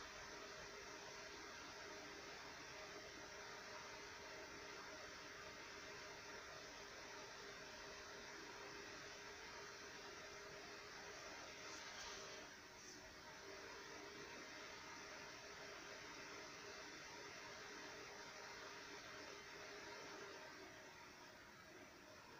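Steady, loud broadband whirring from a desktop computer's cooling fan, an AMD A4 5300K system, running continuously with a slight dip near the end and no voices.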